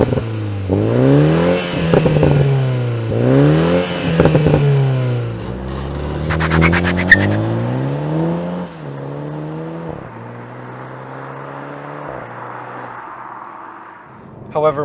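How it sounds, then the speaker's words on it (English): A 2022 Toyota Supra with the 2.0L four-cylinder engine revs up repeatedly in rising sweeps, climbing and dropping in pitch several times before settling into a steadier drone, heard close and fairly loud with a few clattering bumps. "while this engine does not have an active exhaust like the inline 6, it still makes some pretty good noises"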